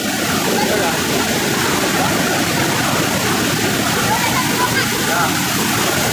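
An outdoor waterfall gives a steady, loud, close roar of falling and splashing water that fills the whole stretch without a break.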